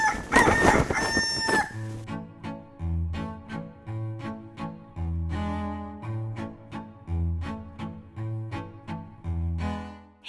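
A backyard rooster crows loudly and close by at the start, a raspy drawn-out call, then music with a steady rhythmic beat continues.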